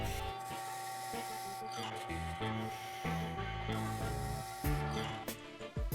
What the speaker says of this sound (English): Then drilling a hole in each one.